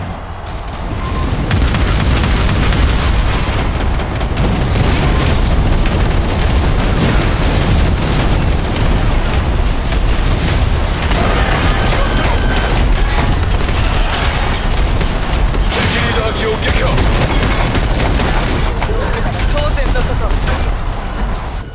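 Cannon fire and explosions in the Figureheads game form a loud, relentless barrage of booms and bursts that runs without pause for over twenty seconds, with voices talking over the din.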